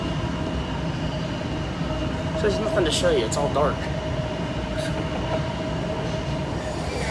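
A metro train runs through a tunnel on a bypass line with a constant heavy rumble and rail noise, plus a brief wheel squeal midway, while a passenger talks over it.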